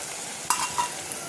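Snacks deep-frying in oil until red and crisp give a short, steady close-up sizzle with a couple of brief clinks or pops.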